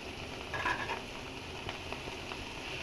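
Grated potato and radish stir-fry with chopped onions in a pan. A faint, steady sizzle runs throughout, with a brief scrape early on and a few light stirring sounds.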